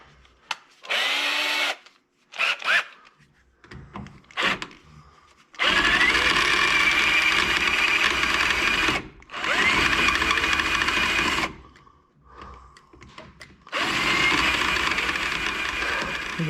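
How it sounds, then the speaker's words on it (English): Power drill boring out a stripped screw while removing trim for a chrome-insert windshield install, running in several loud bursts of a few seconds each with short quiet gaps between them. "We're going to have to drill that one out, unfortunately."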